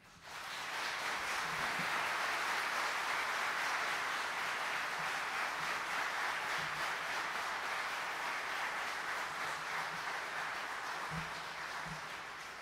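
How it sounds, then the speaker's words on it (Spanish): Sustained applause from a crowd at a Supreme Court swearing-in ceremony for new lawyers, a dense, steady wash of many hands clapping that fades in and holds for about twelve seconds, heard from some distance. "El público les puede brindar un merecido aplauso."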